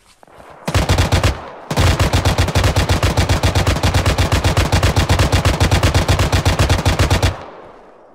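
Sustained loud automatic gunfire in the video game Arma aimed at a BTR, a brief burst, a short pause, then a long rapid unbroken stream of shots that stops abruptly.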